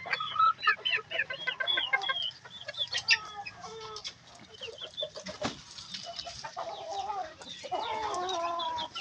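Hens and roosters in a backyard breeding pen cluck and squawk in busy overlapping bursts, close and fairly loud, with a brief sharp knock partway through.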